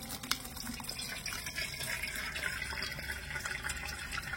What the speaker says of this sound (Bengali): এবার উপর থেকে নরমাল জল দিয়ে আমি একটু ছানাটা ধুয়ে নেব।